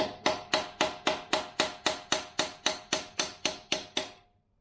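A chisel held on a core plug is struck into a Rover V8 engine block, producing about fifteen sharp, evenly spaced metallic hammer blows, close and loud, then a short ringing decay into quiet.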